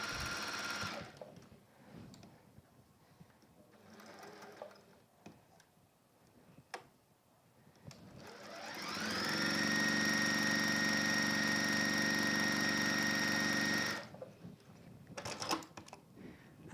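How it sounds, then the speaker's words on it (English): A sewing machine runs steadily for about five seconds while top stitching down both sides of a fabric hanger, its fast mechanical whir loud and close, with quieter workshop handling noises before and after. "So I'm just going to top stitch down both sides."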